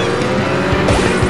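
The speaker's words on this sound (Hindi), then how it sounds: "दो टायर पे चलती है मेरी गाड़ी" Racing car engine roaring in Beach Buggy Racing 2, loud and continuous with tire squeal and skidding swells, the car driving on two wheels, with no talk.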